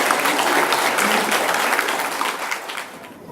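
A crowd at a golden wedding anniversary celebration in Marly applauds the couple, a dense, even round of clapping that tapers off toward the end.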